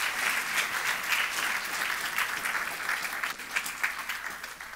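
Steady applause from a church congregation, a dense clatter of many hands sustained throughout and close to the listener, with a faint murmur of voices beneath.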